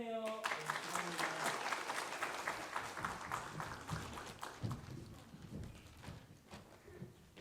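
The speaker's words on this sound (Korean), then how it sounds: "박수 해주세요" Congregation applause at an early-morning church prayer service, a brisk round of clapping that starts after a short voice and gradually thins into scattered, uneven claps.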